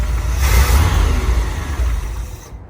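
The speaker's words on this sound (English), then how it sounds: "So that's the 345 V8 factory motor, guys. That was first crank. Thing starts up." A restored 1978 International Harvester Scout II with its factory 345 V8 starts on the first crank and settles into a loud, close, steady rumbling idle that swells early on, then cuts off abruptly at the end.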